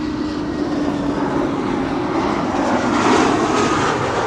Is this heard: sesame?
no